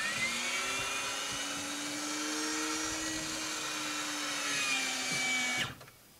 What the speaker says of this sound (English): now I'm going to select down, and the landing gear is going to come out